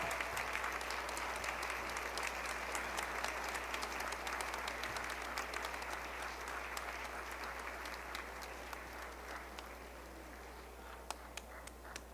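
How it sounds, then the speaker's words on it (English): Round of applause at an MLK program as an award is presented, a broad, even crowd clapping from a sizable audience that holds steady and slowly tapers, a few scattered claps at the end. "Let's give a round of applause for Pat Haney as I present her with this award."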